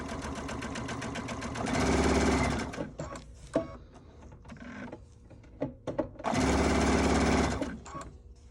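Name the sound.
sewing machine stitching a placemat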